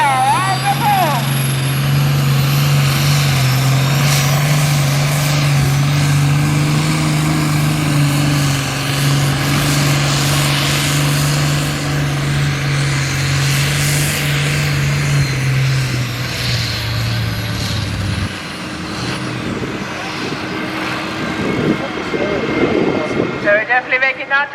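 A vintage steam tractor pulls under load at the Shrewsbury Steam Rally, giving a loud, sustained mechanical roar with a steady low drone that drops away near the end, as voices talk over it.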